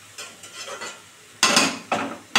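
Green note shak (amaranth greens) being stirred in a pan after a tempering of radhuni, black cumin, dried chilli and garlic, with soft scraping at first, then two louder bursts of close frying sizzle and clatter.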